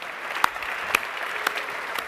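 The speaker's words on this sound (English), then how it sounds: "A big applause for our chairman." Audience applause at a conference stage welcome, heard as a steady wash of clapping with a few sharper individual claps standing out, moderately loud and continuous throughout.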